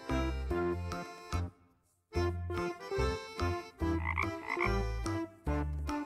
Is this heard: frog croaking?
yes